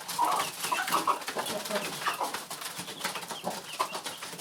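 Newly arrived chickens and a young cockerel cluck and call in a backyard coop while being fed. Scattered, fairly close clucks and short calls rise over a busy outdoor background, with no talking heard.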